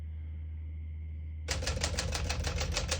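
Vintage portable typewriter typed in a rapid, close, loud burst of evenly spaced key strikes, following a second or so of quiet room hum.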